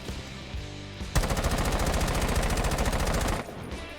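Sustained automatic rifle fire in Rainbow Six Siege, one loud continuous burst of rapid evenly spaced shots lasting over two seconds after a brief lull, then cutting off abruptly.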